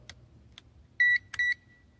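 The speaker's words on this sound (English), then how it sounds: "beeping, starting to work there" Two short, steady electronic beeps from a UNI-T AC/DC clamp meter, each about a fifth of a second, separated by a brief pause, with a few faint clicks and a low hum behind.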